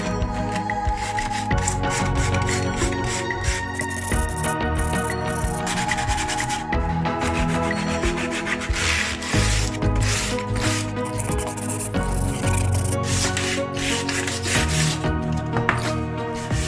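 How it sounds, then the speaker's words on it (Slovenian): Steady back-and-forth rasping of sandpaper rubbing over a wooden tray, continuous and close, with a rhythmic scratchy texture and no voices. "Z brusnim papirjem dobro pobrusimo površino."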